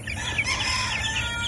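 Young chickens, likely a cockerel and a pullet, cheep and chirp rapidly and continuously up close, high thin peeping calls overlapping with no talking.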